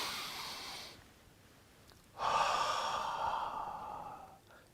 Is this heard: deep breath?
yes